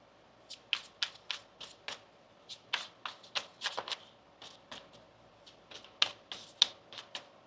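A deck of tarot cards is shuffled by hand in a quiet room: a string of soft, quick riffling and snapping bursts at an irregular pace, close and fairly faint, with no talking.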